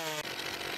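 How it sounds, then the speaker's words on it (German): Chainsaw from the forestry game Forstwirtschaft 2017, a loud, steady engine drone running throughout the short clip with a brief dip near the start, alone without talk. "Ich packe jetzt hier mal die Säge aus."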